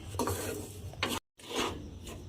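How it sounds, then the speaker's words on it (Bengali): Rice flour being stirred and dry-fried in a pan over low heat, repeated close scraping strokes of a utensil against the pan with a faint sizzle, interrupted by a brief silent gap. "দেখুন আপনারা গুঁড়িটা দিয়ে এইভাবে 2 থেকে 3 মিনিটের মতো নাড়াচাড়া করলে গুঁড়িটা আমার ভাজা হয়ে যাবে"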